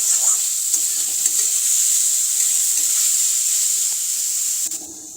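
Onions frying in oil until light brown while preparing egg devils, a loud, steady, hissing sizzle close up with faint scraping stirs, continuous and dropping slightly at the end, no speech.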